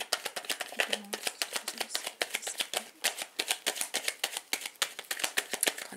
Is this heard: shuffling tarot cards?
yes